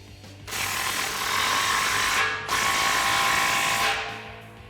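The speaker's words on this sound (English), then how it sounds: "grab your 15mm socket and tighten them down" A ratchet with a 15mm socket tightens exhaust clamps on a Ford Performance by Borla Extreme cat-back exhaust for a 2018-2020 Mustang GT, giving two loud, close bursts of rapid clicking with a brief pause between them.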